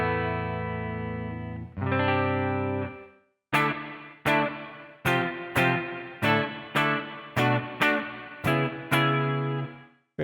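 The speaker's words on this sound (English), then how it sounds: "Let's tighten up the reverb a little bit here." An electric guitar through a Donner Revecho delay/reverb pedal with the reverb tightened: a few sustained chords ring out, then a run of sharply strummed, distorted chords with short, clipped reverb tails, close and loud.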